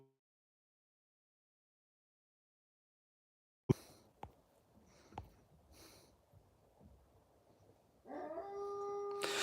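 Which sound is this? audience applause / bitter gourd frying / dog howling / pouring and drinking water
dog howling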